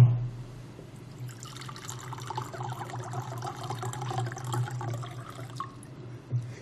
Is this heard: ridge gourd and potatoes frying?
no